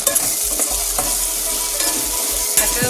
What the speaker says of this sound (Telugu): ఇదంతా పచ్చివాసన పోయేదాకా వేయించుకోవాలి